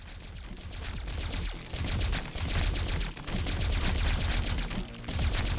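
Rapid-fire shooting from the Centipede arcade game, a dense stream of quick electronic shot blasts repeating steadily and loudly for several seconds with no talk.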